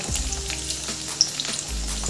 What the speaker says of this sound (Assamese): মোৰ তেল গৰম হৈ গৈছে এতিয়া মই ইয়াতে দুটা তেজপাত দিম আৰু কাটি থোৱা পিঁয়াজখিনি দি দিছোঁ